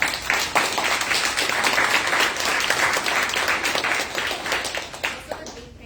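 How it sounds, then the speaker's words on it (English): An audience at a transportation equity panel discussion applauds the panelists, dense, loud clapping that builds quickly, stays steady, then thins into scattered claps. "let's give a big round of applause to our panelists."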